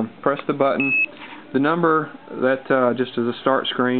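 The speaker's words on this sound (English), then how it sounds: "you can hear it beeping right now" A single short electronic beep from an Exogen machine as its start screen comes on, heard once under a person's steady talking.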